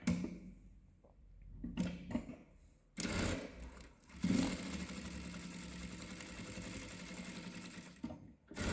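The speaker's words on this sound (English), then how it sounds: "So let me sew over that 12," A Kingstar KS-H7 sewing machine runs steadily over a thick seam, a close, continuous mechanical whirr after a few short starts and stops.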